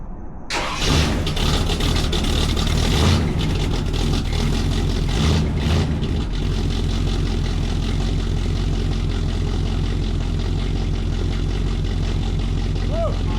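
A Chevrolet El Camino engine cranks and fires up, then settles into a loud, steady idle rumble close by, with a voice briefly heard over it.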